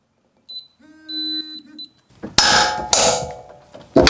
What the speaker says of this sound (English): We're going to torque them to 96 foot-pounds.